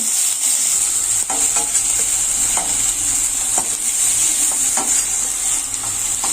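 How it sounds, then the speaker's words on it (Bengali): Pointed gourd (potol) frying in oil in a pan, a loud, even, close sizzle hissing throughout with repeated soft stirring scrapes and light taps of a spatula, with no talking. "এবারে এগুলো একটু ভেজে দেবো"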